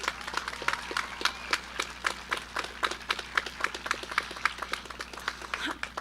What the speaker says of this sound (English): Please join me in a round of applause for our dedicated,